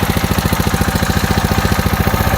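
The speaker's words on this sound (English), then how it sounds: "we're gonna start this up, and I'm gonna let you hear the intake noise." A KTM 690 motorcycle with a modified airbox intake idles steadily, a loud, close single-cylinder thump pulsing in an even rapid rhythm throughout, with no voices.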